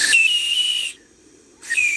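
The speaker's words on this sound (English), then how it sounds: "Testing out my whistle" A live steam locomotive whistle on a backyard railroad fired with Welsh coal gives two loud, sustained blasts with a breathy hiss, separated by a short pause.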